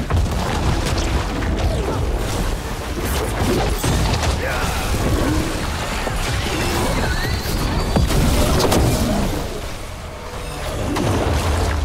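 Explosion in the video game Dragon Age: The Veilguard during a boss fight, a dense, loud booming crash with clattering impacts amid continuous game noise, with a player talking faintly underneath.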